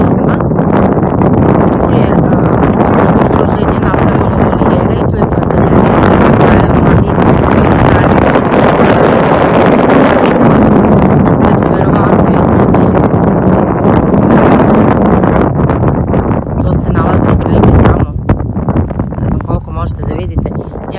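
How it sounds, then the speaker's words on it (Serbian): Strong gusting wind buffets a handheld camera microphone outdoors, a loud continuous low roar and rumble that persists throughout with little letup. "vidite, ja jedva držim kameru kako držim tu vetar"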